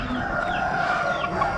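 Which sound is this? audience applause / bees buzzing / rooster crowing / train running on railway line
rooster crowing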